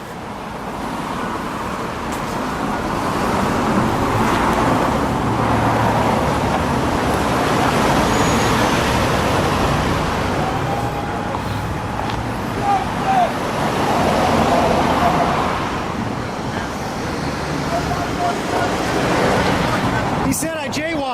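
Street traffic passes in a steady roar through the middle of a busy road during a police precinct rally, with vehicles rushing by continuously and a few faint voices under the noise.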